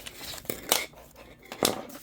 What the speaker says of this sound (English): When I have a day like this, I simply take my scissors